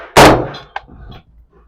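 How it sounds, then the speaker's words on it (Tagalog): A single gunshot is fired during a ballistic examination: one sharp, loud report with a short metallic ring, followed by a faint fading tail. "Last round mga kasama. Firing!"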